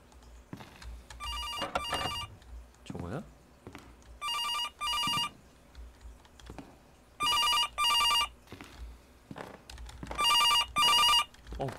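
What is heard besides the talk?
telephone ringing in horror video game, Five Nights at Freddy's fan game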